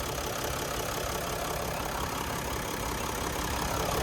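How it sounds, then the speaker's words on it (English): A Mercedes-Benz Sprinter's 3-liter turbo diesel V6 idles, giving a steady, dense engine drone that holds constant and loud throughout with no talk. "So this is the bigger 3-liter turbo diesel V6."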